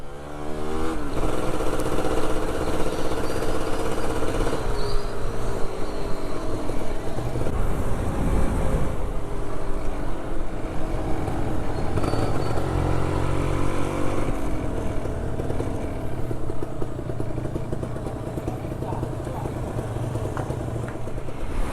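A motorcycle engine drones loud and steady on a touring ride toward Bajoe port in Bone, Sulawesi, rising and shifting in pitch as it accelerates through the gears, with wind rush filling the background throughout.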